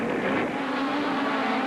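Off-road pro buggies race around a dirt track, a loud continuous engine roar that holds steady without breaks and with no voices.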